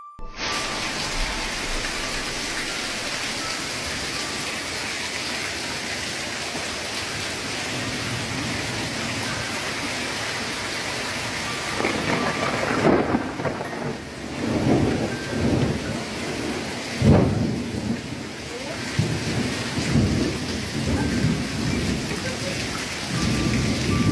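Steady rain pours at night. Deep thunder rumbles roll in repeatedly during the second half, swelling over the hiss of the rain.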